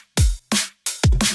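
Dry drum and bass drum pattern for a dancefloor track, without bus glue: punchy kicks with deep low thump alternate with bright snare hits, four loud hits in an even, driving rhythm, no voice.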